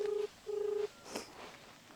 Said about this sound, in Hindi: रुक अपने भाई के लिए फोन लगा दे कि कहाँ बाटे।